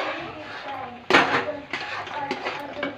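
Grapes drop into a bowl of fruit raita with cucumber and pomegranate, giving a sharp clink of dish and spoon followed by lighter rattles and taps, close by, with a voice speaking over parts of it.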